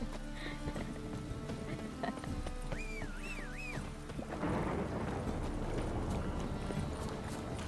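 Roach the horse galloping in The Witcher 3 video game, rhythmic hoofbeats that grow louder and denser under game music and a whistling tone, with a voice briefly speaking.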